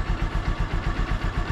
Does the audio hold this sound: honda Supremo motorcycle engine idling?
yes